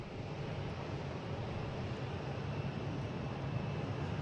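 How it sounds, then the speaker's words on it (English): Steady broadband roar of a JetBlue Airbus A320 jet airliner at Boston Logan airport, a continuous engine rumble holding at an even, moderately loud level with no voices. "next to me is a JetBlue from Orlando. An A320 flight 1152."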